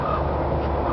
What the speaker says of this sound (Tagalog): ang kanyang mga uwak